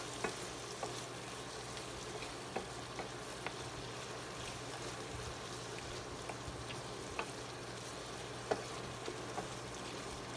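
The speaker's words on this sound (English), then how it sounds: "I'm going to stir this back in together." Beef and mushrooms for stroganoff sizzle steadily in a pan as a spoon stirs them, with a few sharp scraping clicks over a constant fry hiss; no talking.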